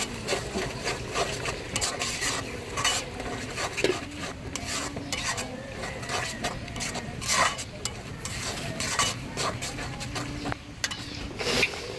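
Spice paste with panch phoron powder and ground coriander being stirred and scraped in a pan, a steady run of utensil scrapes and clinks over a faint sizzle, close and continuous with no talk.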